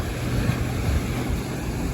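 Ocean waves break in a cove along the Southwest Coast Path near Maenporth, a steady loud surf wash mixed with wind buffeting the microphone.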